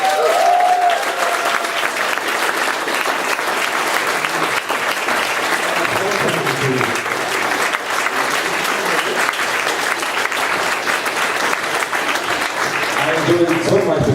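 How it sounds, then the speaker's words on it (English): Conference audience gives a sustained round of applause for a speaker, dense steady clapping filling the hall with faint voices and murmurs underneath throughout. "A big round of applause for Valeria."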